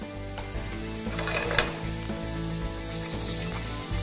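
Chicken pieces for shawarma sizzle steadily in a hot pan, with a continuous close frying hiss and occasional stirring clatter throughout, no voices.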